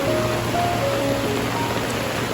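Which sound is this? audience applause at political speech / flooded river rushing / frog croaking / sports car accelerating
flooded river rushing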